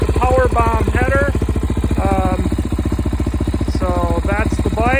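A 2016 Suzuki DRZ400SM fitted with an FMF complete exhaust and Powerbomb header idles close by, a steady rapid single-cylinder thump with a voice talking over it in bursts.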